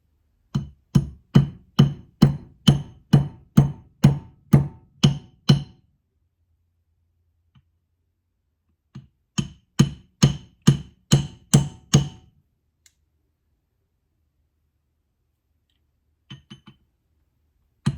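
A 5/8 socket is hammered to drive a part into a Triumph Spitfire transmission during a rebuild: a rapid run of about ten sharp metallic taps, a pause, another quick burst, then a few faint taps near the end.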